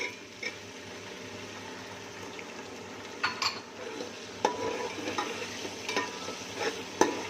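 Green chillies and tomatoes frying in a pan for chana pulao, a faint, low sizzle broken by occasional utensil clinks and stirring scrapes, close up with no talk.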